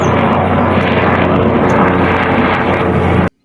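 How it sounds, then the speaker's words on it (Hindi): Helicopter engine and rotor noise over Chopta valley, a loud continuous droning roar close by, steady for a few seconds before cutting off abruptly. "आज सुबह से चोपता वैली में बहुत ही ज़ोरों की हेलीकॉप्टर की आवाज़ सुनाई दे रही है"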